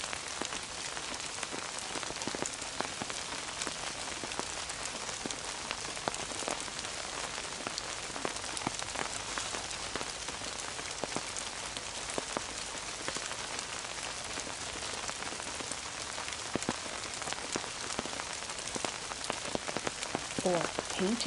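Steady rain patters on a surface throughout, dense and even, with occasional heavier drops standing out; no voices.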